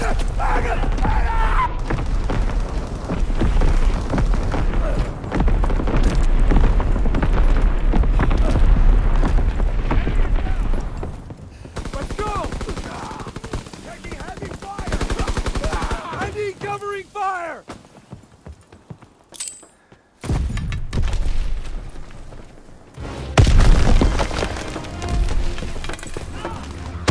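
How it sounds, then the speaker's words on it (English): Naval primary battery guns fire in the World War II shooter Call of Duty: WWII, with heavy booms and splintering crashes rolling over dense battle noise, briefly dropping out before another loud blast near the end. "Firing primary battery."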